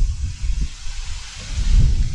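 Cold October wind gusts across an open, treeless riverbank at a feeder fishing spot, a steady broadband rush of microphone buffeting that swells louder toward the end.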